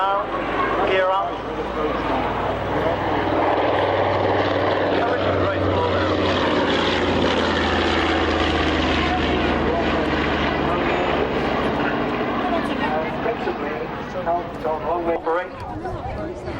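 A military aircraft makes a low pass from the left with its gear up at the 1996 Army Air Corps Middle Wallop airshow, a loud, sustained engine roar swelling and fading over roughly sixteen seconds while an announcer talks over it.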